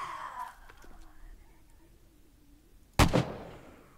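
A single sharp AK-47 shot rings out in the 7 Days To Die survival game, sudden and loud after a quiet stretch with faint background sounds.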